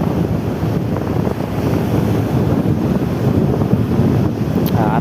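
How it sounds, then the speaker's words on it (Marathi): Sea waves rolling and breaking on the shore at Harihareshwar beach, a steady near roar of surf with wind buffeting the microphone throughout and a slightly bigger wave washing in. "आता ही थोडी मोठी लाट आली"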